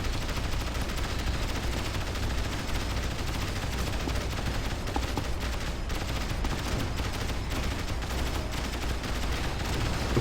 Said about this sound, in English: Guard tower opening fire on the thing.